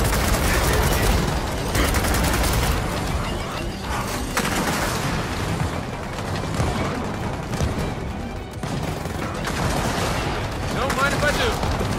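Dense, loud Gears of War 4 gunfire in a campaign battle, continuous rattling bursts and booms layered with mechanical clatter throughout, while a player talks excitedly over the combat.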